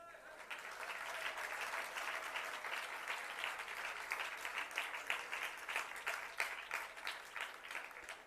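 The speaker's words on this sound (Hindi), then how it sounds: "ताली बज रही है" Audience clapping during a Jain religious discourse in Jabalpur, a steady moderate applause that swells slightly, heard somewhat distantly with a faint voice underneath.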